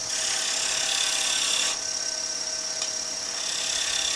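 Sanding a wood-turned head shape spinning on a lathe, a steady close abrasive hiss that dips briefly partway through, with no talking.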